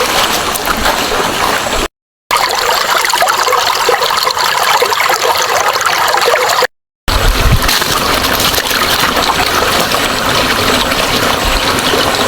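A small stream at the edge of a forest trickles and rushes steadily, a loud, continuous close watery hiss filling the whole stretch with only two brief breaks.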